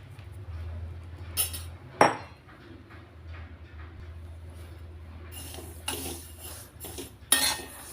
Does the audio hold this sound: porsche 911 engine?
no